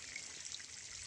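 Irrigation water running through a grape vineyard, a steady broadband hiss of flowing and trickling water, moderately near and continuous, with no talk.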